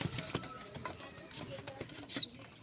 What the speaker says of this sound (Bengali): এই পায়রাটা, এটা কাগজি, অসাধারণ কোয়ালিটি